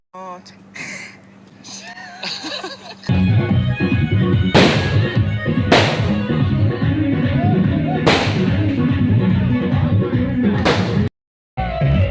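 Loud firecrackers burst at a wedding, several sharp cracks spaced a second or two apart over a constant crowd din, after a quieter opening with voices, with a brief dropout near the end.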